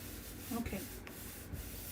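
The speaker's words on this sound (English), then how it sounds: "I might just sand it." Sandpaper rubbing over a junk journal page in short, soft strokes, quiet and close, with a few faint scuffs and a brief murmur of voice mixed in.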